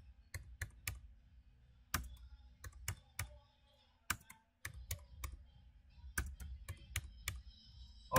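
Keys on a computer keyboard clatter in uneven bursts as HTML is typed, with sharp individual clicks and short pauses between runs, close and moderately loud with no voices.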